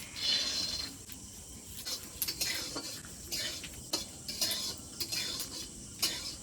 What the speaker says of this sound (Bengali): এবার সামান্য একটু তেল দিয়ে বাদামটা ভেজে নেব।